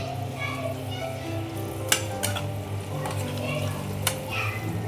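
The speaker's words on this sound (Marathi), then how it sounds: "थोडीशी टोमॅटो मऊ पडेपर्यंत आपल्याला हे फ्राय करून घ्यायचं आहे." Tomatoes with turmeric sizzle steadily in a pan as a paneer pulao is cooked, a soft constant frying hiss broken by a few sharp utensil clinks, while a person talks over it and a voice is heard.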